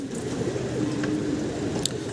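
Pigeons cooing at a large pigeon farm, a soft, low repeated coo close by with faint background ambience.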